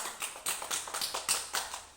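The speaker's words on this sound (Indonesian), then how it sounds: "Nah, tepuk tangan." Hands clap in a steady, evenly spaced rhythm of about nine sharp claps, close and fairly quiet, during a home teaching session, with no talking.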